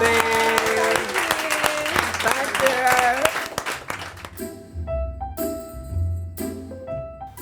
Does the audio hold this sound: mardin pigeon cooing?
no